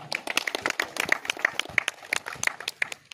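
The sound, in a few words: audience applause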